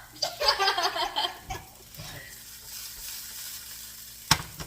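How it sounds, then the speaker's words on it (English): Potatoes fry in a pan for a garden-to-table stir-fry, a bright crackling sizzle that is loudest at first and then settles to a quieter steady hiss, ending with a sharp utensil knock. "let's go fry some potatoes"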